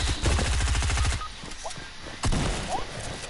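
Rapid gunshots ring out in a video game during a trios cup match, a dense burst of shots at the start followed by scattered thumps and a second burst, with faint talk underneath.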